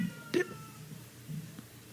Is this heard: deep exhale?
no